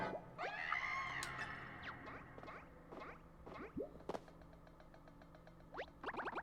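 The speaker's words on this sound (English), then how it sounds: "you can't just scream like that" A Toad screaming aboard a cruise ship in Paper Mario: The Origami King: a run of squeaky, swooping cartoon shrieks and yelps, some rising and some falling, scattered over a faint hum with occasional knocks.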